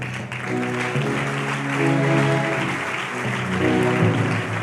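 Audience applause fills a church or religious gathering, a broad steady wash of clapping layered over sustained organ-like musical tones that swell slightly toward the middle.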